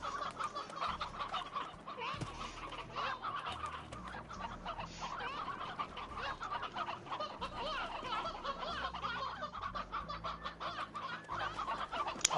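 Chickens in the video game Slime Rancher cluck and chatter continuously at moderate distance, a busy layered flock sound over faint background music.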